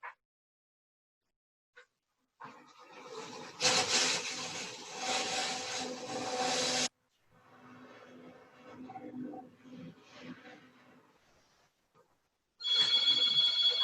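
Bursts of close, gritty sanding on a turned wooden Irish platter, starting and stopping several times with brief quiet gaps and a whining tool tone near the end.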